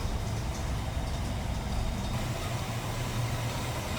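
A 1964 Chevrolet C10 pickup with a 283 V8 and Edelbrock four-barrel carburetor idles steadily with a low, even rumble, moderately quiet, with no talking.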